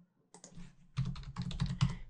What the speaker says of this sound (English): So we have typed the label and the plural label